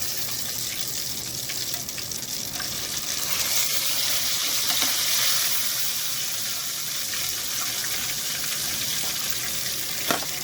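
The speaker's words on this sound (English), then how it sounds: "They fry it real good." Small pieces of catfish fillet fry in oil in a pot, giving a loud, steady, close sizzle that holds throughout with a faint clink near the end.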